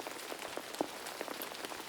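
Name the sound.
rain falling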